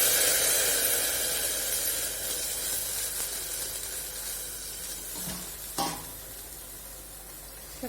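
Cardamom and cloves frying in hot fat for semolina halwa, giving a steady close sizzle with fine crackling that slowly fades, plus a couple of brief clinks.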